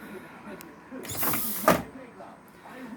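The landing gear of a model Beechcraft Staggerwing airplane retracts with a brief whirring, creaking mechanical motion that ends in a soft clunk, heard close with quiet room noise around it.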